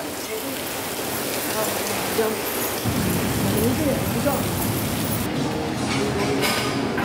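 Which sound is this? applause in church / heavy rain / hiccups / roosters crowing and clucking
heavy rain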